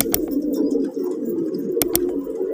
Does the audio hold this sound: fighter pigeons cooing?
yes